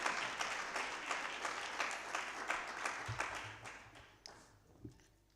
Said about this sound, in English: May we kindly please give her a round of applause as she ascends the podium.